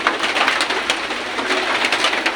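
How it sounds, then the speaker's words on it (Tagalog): Heavy rain pours down outdoors during Holy Week, a steady dense hiss with no break, fairly loud and with no voices over it. "Kusog po biya ang ulan, makabasa po baya."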